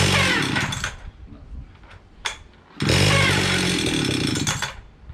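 An antique Stihl 031 chainsaw with a freshly cleaned carburetor roars at high revs, drops to a rough idle for about two seconds, then revs hard again, loud and close.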